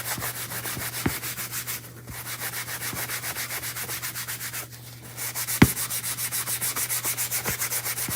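Wax is rubbed by hand onto a wooden farmhouse tray, a close, rhythmic back-and-forth scrubbing with a couple of brief pauses and a few light knocks, with no talking.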